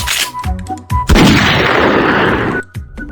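A hunting rifle fires once in an animated scene, a sharp loud blast with a long rumbling tail, framed by brief cartoon sound effects before and after.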